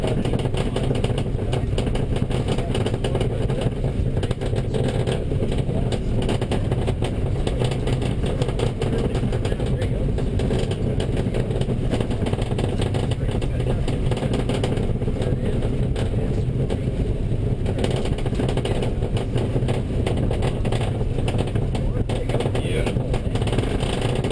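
A rally car engine roars continuously on a dirt rally course, revving hard with gravelly clatter and rumble throughout, loud and close, as if recorded from on board.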